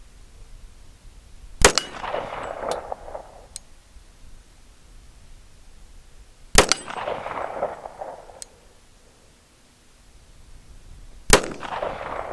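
Three spaced single shots from a Springfield Armory 1911 TRP pistol firing 230gr and 185gr Berry's bullets, each a sharp loud crack with a short echoing tail, plus faint metallic clinks between.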